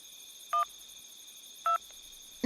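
A telephone number is dialed in an anime episode, with two short touch-tone beeps spaced about a second apart over a faint steady hum. A louder tone starts at the very end.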